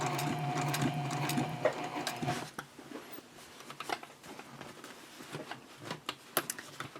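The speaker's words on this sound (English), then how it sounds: "And now we'll just keep sewing all the way around." A sewing machine stitches around the curved edge of a messenger bag, running as a steady close whir for a couple of seconds before dropping to quieter, intermittent mechanical ticks and clicks.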